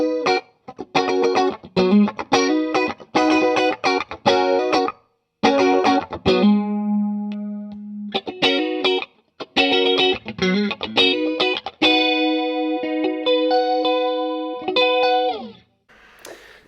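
Electric guitar played through a homemade DIY practice rig on its clean channel, close and loud, with choppy strummed chords and stops, then sustained ringing notes near the end, without any talk.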